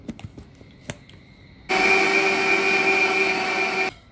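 A few light taps and clicks, then a mixer grinder starts up and whirs loudly and steadily for about two seconds grinding rice and lentils for idli batter, before stopping abruptly.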